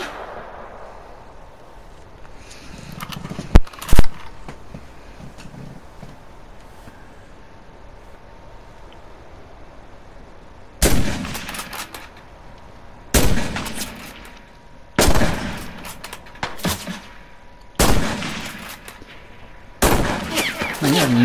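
Gunfire in a battle royale video game arrives as sharp bursts: a couple of quick shots early, then a run of loud, evenly spaced bursts in the second half over quiet background noise.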